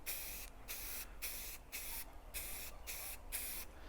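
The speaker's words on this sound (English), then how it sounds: "Try not to spray it on too heavy, or else you're going to get some runs and stuff." An aerosol can of spray paint sprays onto a model railroad building in quick repeated bursts, about seven short hisses in a steady rhythm, close and clear with brief pauses between.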